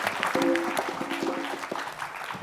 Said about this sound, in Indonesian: Tepuk tangan untuk kedua tim